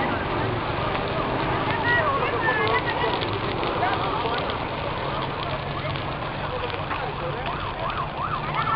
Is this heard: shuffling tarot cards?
no